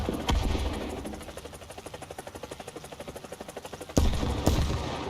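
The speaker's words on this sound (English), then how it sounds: "Opening fire." Aircraft guns opening up in War Thunder, a steady rapid train of evenly spaced shots over engine drone, punctuated by two heavier booming blasts near the end.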